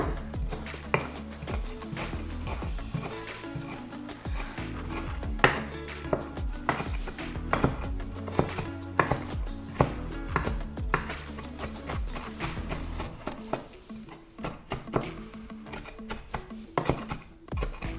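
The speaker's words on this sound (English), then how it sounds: "So then magically I survived cutting the parsley." A knife chops parsley on a cutting board, a rapid, steady run of crisp close taps that thins out and grows sparser toward the end.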